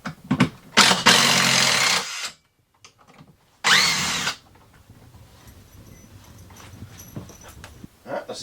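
A power drill backs screws out of a motorhome sofa armrest during a Jackknife sofa installation. There are several short, loud whirring bursts close by, separated by pauses, with quieter handling noise and talk afterward.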